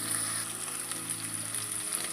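Food cooking in a pan for rice with chickpeas, steady close sizzling hiss with faint stirring scrapes throughout, no voices.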